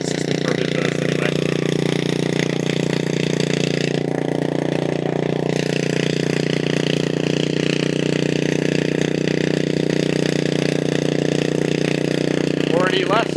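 A test engine fitted with the Thunderstorm Generator system warms up during a Lismore, NSW demo, running as a steady, even drone with its muffler on, while people talk faintly nearby.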